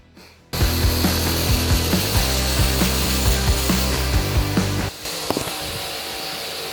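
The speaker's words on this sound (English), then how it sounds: "you can use the corner of your 60 grit or 40 grit or whatever grinding belt to cut down carbon fiber pins without them splitting apart" A belt grinder runs with a steady loud whir while carbon fiber pins are pressed against the corner of a 60 or 40 grit belt, close and continuous, then the grinding contact eases off near the end.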